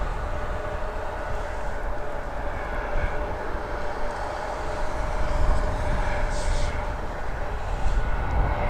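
A United Express Embraer 175 jet at Toronto Pearson Airport at night gives a steady, distant broadband roar with a faint sustained tone, constant in level throughout.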